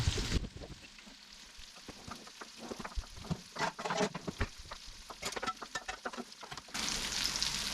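Walleye fillets frying in butter in a pan, a steady close sizzle with bubbling crackles and spitting pops, louder bursts in the middle and a hiss that swells again at the end; no voices.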